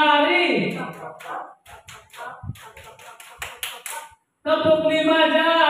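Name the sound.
clapping with four fingers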